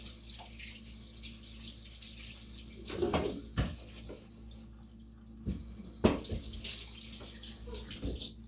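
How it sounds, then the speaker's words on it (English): Greasy hands are washed with Dawn dish soap under a running tap, giving a soft steady water flow with occasional louder splashes and rubbing bursts, fairly quiet and without talk. "We're using that Dawn dish soap. We're making sure that grease gets off my hands."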